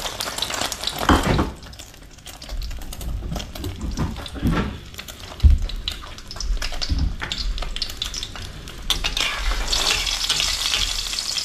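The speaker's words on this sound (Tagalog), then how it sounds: "Pirito na tayo mga kabida" Food frying in a pan at home, a steady loud sizzle with bursts of spattering and a few stirring clatters throughout, no one talking.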